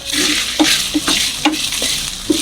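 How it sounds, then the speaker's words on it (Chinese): Marinated meat sizzles loudly in a hot wok as it browns, while a spatula scrapes and knocks against the wok in an irregular stirring rhythm. "把腌好的肉炒熟，炒上色"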